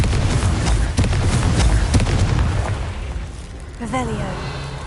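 A Confringo blasting spell explodes in the Hogwarts Legacy video game, giving a loud booming burst, followed by further thumping impacts and a fading rumble.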